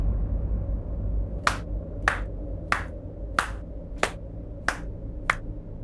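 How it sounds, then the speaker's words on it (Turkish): Slow hand claps in a scene from an Indian drama series: seven sharp, evenly spaced claps about half a second apart, fairly close, over a low steady background hum with no talking. "Neden alkışladım biliyor musun?"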